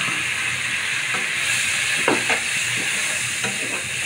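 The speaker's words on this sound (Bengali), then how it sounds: "এখানে আমি চিংড়ি মাছগুলো দিয়ে দিচ্ছি।" Shrimp frying in a pan for an okra stir-fry, a steady close sizzle with a few brief clinks and scrapes of stirring, with no talking.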